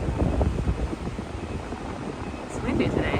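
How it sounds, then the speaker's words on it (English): Wind buffeting the microphone outdoors at El Yunque rainforest in Puerto Rico, a steady rumbling gusty roar throughout, loud and close, with faint voices underneath. "It's windy today."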